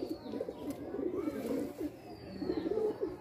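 A high-flying pigeon gives low, rolling coos in a steady murmur, faint and near, with a few soft chirps in the background.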